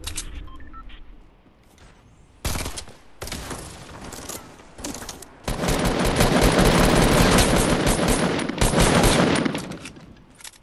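Gunfire in a shooter video game, loud bursts of rapid shots and volleys clustered from the middle onward after a few sharper single blasts, with no talking.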